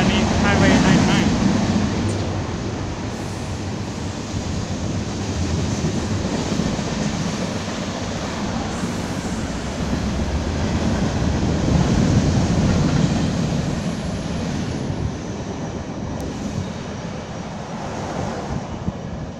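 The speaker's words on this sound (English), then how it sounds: "straight train going through underneath Highway 99." A BNSF mixed freight train rolls through underneath Highway 99, a loud, steady roar and rumble that holds for about twenty seconds, heavily buffeted by wind noise on the microphone.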